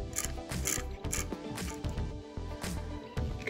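An aluminum spool on a spool gun spins against its drag, giving close, rapid ratcheting clicks and whirring mechanical rattle in short uneven bursts.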